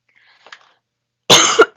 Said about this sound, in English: excuse me if I cough in your ear